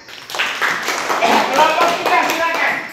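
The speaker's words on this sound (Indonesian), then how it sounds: "Oh, tepuk tangan." Students in a classroom clap together in a brisk, close burst of hand claps that continues for a few seconds, with voices mixed in underneath.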